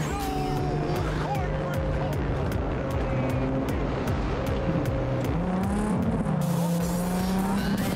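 Car driving in Cyberpunk 2077, a steady engine drone with shifting pitch and occasional tire squeal, continuous and fairly loud, with someone talking over it.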